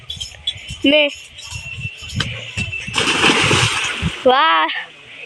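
A boy vaults and dives into a village pond, landing with a loud splash and sloshing water, followed by more churning splashes, while people talk and call out nearby.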